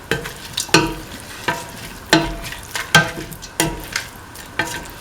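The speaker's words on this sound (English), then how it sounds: "Now put in the ground mint, caraway, coriander mixture." A spoon stirring mint chicken stew with a ground mint, caraway and coriander spice mixture in a pan, regular scraping strokes about every half second over a soft sizzle.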